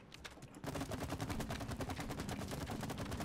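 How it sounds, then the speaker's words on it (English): Shooting in the It Takes Two video game, a rapid steady stream of repeated shots firing in quick even rhythm for several seconds after a brief quieter start, fairly faint overall. "And then I'll shoot it all at once."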